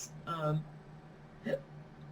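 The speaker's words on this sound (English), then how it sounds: "I don't know what the hiccup was for" A single person's hiccup, close and fairly loud, heard shortly after eating dinner, followed by a second brief throaty vocal sound in an otherwise quiet room.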